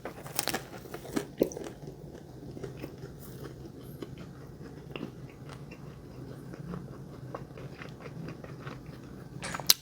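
Close, irregular crunching bites and chewing of food topped with little fried crispy onions from Tim Hortons, with a few sharper crunches early on.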